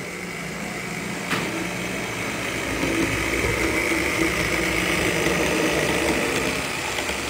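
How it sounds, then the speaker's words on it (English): A model train locomotive fitted with Athearn axle gears runs steadily, a continuous whirring motor-and-gear hum with a slight rise in level partway through and no speech. "I noticed when I use the Athearn gears in 2K engines, they're not as quiet."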